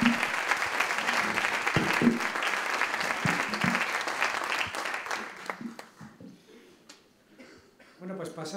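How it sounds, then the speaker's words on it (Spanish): Sustained applause from an audience at a rural development conference in Castilla y León, loud and dense at first, then thinning out and tapering toward the end, with scattered voices and a brief chuckle mixed in. "yo creo que se ha merecido un aplauso"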